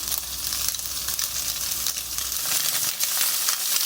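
Food fries in a hot pan with a continuous bright sizzle and crackle, close and fairly loud, with no talking.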